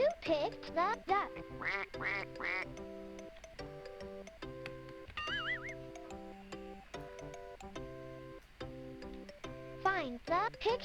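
Cartoon duck quacks in a preschool animal-sounds game, a short run of bright nasal calls in the opening seconds over bouncy background music, with a narrator's voice speaking over the tune.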